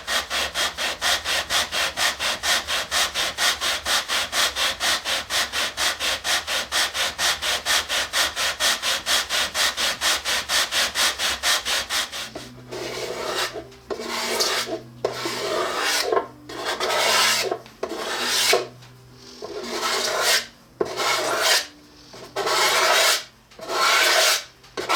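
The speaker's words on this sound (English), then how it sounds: "we're going to have to sand all the way around the perimeter and get the maple flush with the mahogany" Maple binding on a mahogany ukulele body is sanded flush, first with rapid, even back-and-forth rasping strokes, then with slower, separate scrubbing passes and brief pauses, close and loud with no talk.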